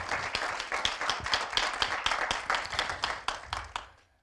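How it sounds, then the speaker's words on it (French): An audience at a talk on advertising and the environment gives a burst of steady, moderately close applause lasting a few seconds, then it stops abruptly near the end. "Merci Arthur, on peut l'applaudir."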